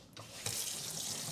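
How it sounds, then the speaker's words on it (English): Water runs from a kitchen tap over a knife being washed, a steady close hiss that starts abruptly and then flows continuously, with no voices. "I'm gonna wash my knife."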